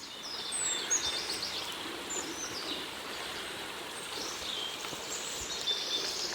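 Birds sing faintly in the Breton countryside, with scattered high chirps and short calls spread over a soft, steady outdoor background.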